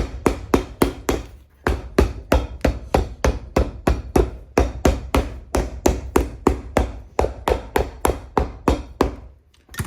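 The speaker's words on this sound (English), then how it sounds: "hammer it on, and we're gonna put it in the press." Rapid, rhythmic hammer blows strike in quick succession as a sole is hammered onto a Red Wing Iron Ranger boot, dozens of sharp close knocks with short pauses between bursts.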